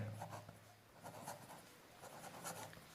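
Marker or chalk writing on a board during a spoken English lesson, repeated scratchy strokes in short bursts, faint and close with a low hum beneath.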